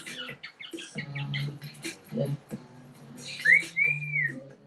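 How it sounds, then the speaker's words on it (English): Pet birds indoors give a string of whistles and chirps, a few rising and falling whistled notes standing out among short tweets, fairly faint and close, with no talk over them. "My birds want to talk too."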